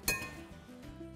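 A single sharp clink, then a softer scrape and tap, as a utensil stirs marinated eggplant salad with parsley in a dish.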